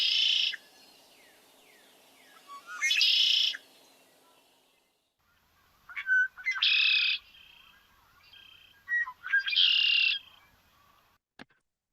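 Red-winged blackbird songs, two different song types each sung twice, with bright buzzy trills and sharp introductory notes separated by quiet pauses against a faint background.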